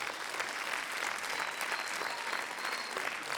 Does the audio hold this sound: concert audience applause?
yes